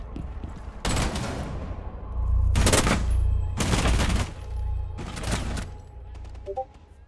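Gunfire from Rainbow Six Siege comes in four loud automatic bursts, each lasting about a second, separated by short pauses, with a faint tail of quieter clicks at the end.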